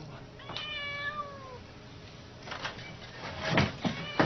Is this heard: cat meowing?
yes